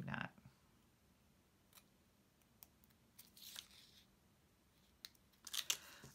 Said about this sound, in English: Let me trim that up a little bit.